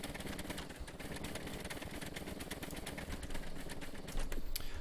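Engines of a machine built in the video game Scrap Mechanic run steadily, a dense, fast rhythmic chugging that stays loud and close throughout and grows slightly heavier near the end.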